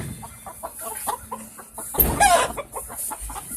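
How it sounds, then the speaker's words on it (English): Backyard chickens in their coop, about ten hens, clucking and murmuring close by in irregular bursts, with a louder flurry of squawks midway and soft rustling throughout. "and these are my chickens."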